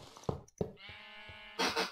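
Sheep bleat in the video game Minecraft, a few close, wavering baas with short gaps between them, clear against a quiet background.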